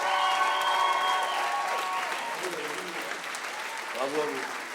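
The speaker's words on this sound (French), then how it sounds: "un tonnerre d'applaudissements s'il vous plaît" Concert audience applauding as a singer comes on stage at a live blues show, a sustained wash of clapping under a sung or held vocal note that fades, with voices emerging toward the end.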